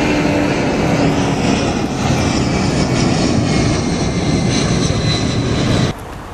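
Aircraft engines roar loudly and steadily at Hartsfield airport for about six seconds, then the noise drops away abruptly near the end.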